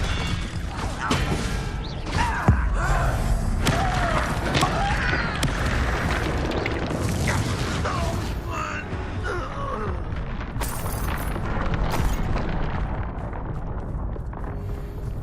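Bombarda blasting spell explosions in Hogwarts Legacy: repeated booming blasts and crashing impacts amid a dense battle mix, with sharp bursts scattered across the stretch and a few louder cracks.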